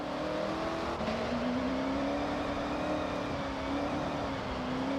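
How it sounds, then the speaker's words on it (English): A car speeds along a dirt route in the racing game Forza Horizon 6, its engine droning steadily at high revs with a slowly wavering pitch, loud and constant, with no voices over it. "what does this car sound like if I'm just speeding?"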